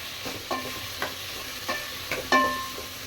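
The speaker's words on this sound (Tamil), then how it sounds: "வெங்காயத்தை ஆட் பண்ணி நல்லா வந்துட்டு வதக்கி விட்டுடலாம்." Onions sautéing in a pan, a steady sizzle and frying hiss with a utensil scraping and stirring at regular intervals, close and alone without talk.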